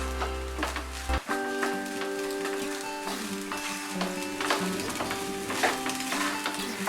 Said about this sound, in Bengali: মেশাতে মেশাতে আমি ফ্লেমটাকে একটু বাড়িয়ে দিলাম।